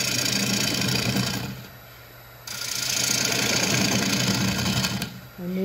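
A wood lathe spins a bowl while a bowl gouge cuts it, giving a steady, close whirring hum with a brief dip in the middle and a scraping cut at the end.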